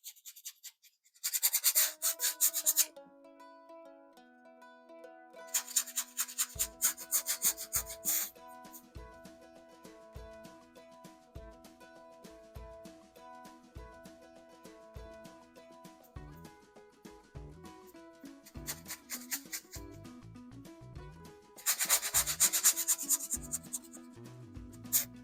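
Paintbrush scrubbing cobalt blue oil paint onto canvas for a summer sky: soft, close rubbing strokes in quick rhythmic bursts, with short pauses between passes and no talking.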